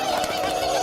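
A cartoon turkey gobbles in a quick, loud, warbling burst, close and alone without talk.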